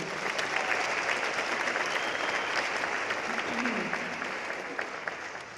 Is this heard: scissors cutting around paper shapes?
no